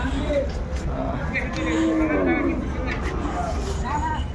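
Dairy cows low and moo a few times amid a noisy background at a Chittagong farm, with people talking nearby.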